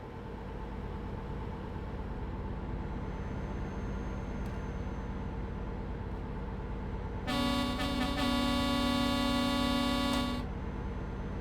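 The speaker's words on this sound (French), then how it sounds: "Y'a personne qui s'est klaxonné ou ça se passe comment?" A truck's air horn blares in Euro Truck Simulator 2 during a long-distance delivery, one sustained loud honk of about three seconds with a brief stutter at the start, over steady engine and road noise.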